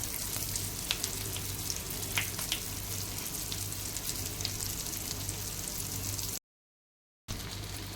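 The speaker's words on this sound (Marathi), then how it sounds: "आता आपण एक साईडने शॅलो फ्राय करणार" Rajma tikki shallow frying on one side in a pan, giving a steady, close sizzle with faint crackles and a low hum underneath, then a brief silence before the frying resumes.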